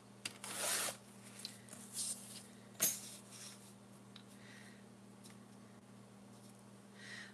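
Scissors snip through vintage paper as it is cut into 1-inch strips, a few soft crisp cuts and rustles close by, with a sharper snip near the middle and quiet pauses between.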